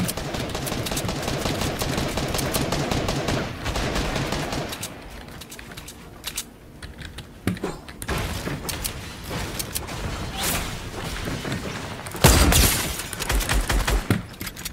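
Fortnite Battle Royale gunfire, a dense volley of sharp shots and rapid bursts from nearby weapons, thinning to scattered cracks and then a loud close blast near the end, with no talking.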